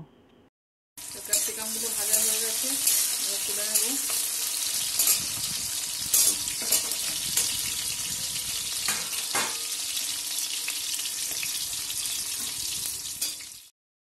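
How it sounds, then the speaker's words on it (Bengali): Capsicum frying in plenty of oil in a hot wok, a loud, steady sizzle that starts abruptly and runs almost unbroken, with occasional clatters and stirring scrapes mixed in. "তেলটা নিয়ে আমি ক্যাপসিকামগুলো আগে ভেজে নিচ্ছি ভেজে তুলে নেব"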